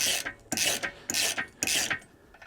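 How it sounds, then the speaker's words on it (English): A wrench ratchets as it loosens a boat propeller nut: four quick bursts of clicking, close and crisp, with short pauses between strokes and no talking. "Now we should be able to get that nut, hopefully."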